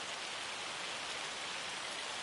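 Heavy rain falls in the farming video game Farming Simulator 25, a dense, even hiss of countless drops that stays steady and fairly soft throughout, with no voices.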